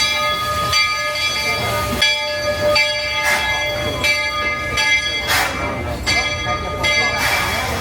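A Magic Kingdom park train rolls steadily along the back of the park with a low rumble, a sustained tonal hum and regular clattering beats, while faint voices murmur nearby.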